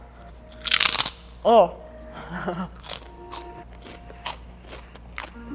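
Loud crisp crunches from biting into airy, pork-rind-like teriyaki-flavored yuca snack chips, a few sharp bites followed by quieter chewing crackles, with a brief voice in between.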